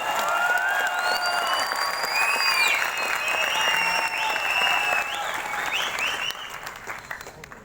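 A crowd at a corporate sales-team event claps loudly and steadily, with bright tonal sounds riding over the applause before it thins out near the end.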